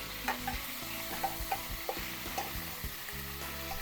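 Beef ribs browning in a wok: a quiet, steady sizzle with repeated clinks and scrapes of stirring, close and without voices.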